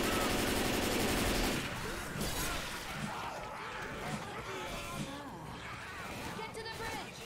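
Gunfire in the video game Left 4 Dead 2 rattles in dense rapid bursts, loudest at the start and then scattered shots under players' overlapping voices.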